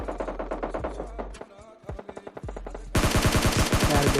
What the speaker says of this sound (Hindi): अपार्टमेंट्स में गाइस काफ़ी तगड़ी वाला फायर हो रहा था